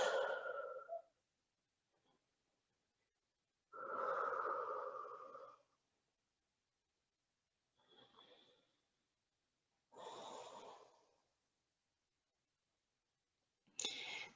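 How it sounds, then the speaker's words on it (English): Slow breathing during a yoga stretch in the polar bear pose, a few long audible breaths in and out with quiet pauses between, close and soft, with no talk. "Breathing here."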